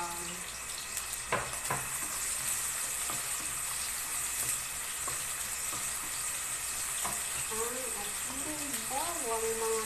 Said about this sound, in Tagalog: Igisa natin ang ating bawang.